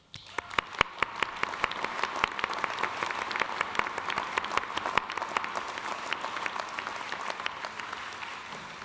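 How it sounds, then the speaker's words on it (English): Audience applause at a university graduation commencement in an arena, dense crisp clapping from a large crowd that starts abruptly and holds steady for about nine seconds. "Let me join you in collectively applauding their efforts as well"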